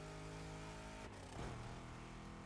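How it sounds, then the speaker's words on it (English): A big-block V8 in a 1971 Chevrolet Caprice donk from The Crew Motorfest racing game rumbles steadily at close range, with a brief rise in revs partway through and no talking. "they've transformed a 71 Caprice and added a big block capable of pulling this monster up to 880 horsepower"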